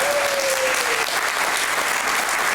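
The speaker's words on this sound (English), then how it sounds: "You could probably just go into applause right now." A gathered audience at a talk breaks into steady, loud applause that fills the room for a few seconds, with a brief voice-like tone at the start.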